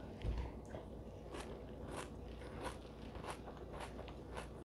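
Crunchy wheat flakes cereal being eaten, with quiet rhythmic crunching bites repeating roughly every half second, close and faint, with no talking.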